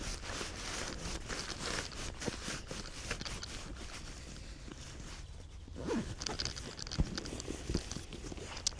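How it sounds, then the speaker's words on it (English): A zipper runs along the rain jacket compartment at the bottom of a camera bag, a steady, close rasping that carries on through the clip with a few quick tugs and rustles near the end. "That just zips away in the bottom compartment."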